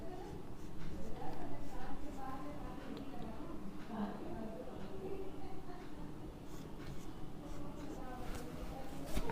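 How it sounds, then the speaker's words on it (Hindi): Marker or chalk strokes as a teacher writes an example on the board during an organic chemistry lesson, soft scratchy scribbling running steadily under a continuous room hum. "चलिए एक आध एग्जांपल और लिखता हूं मैं।"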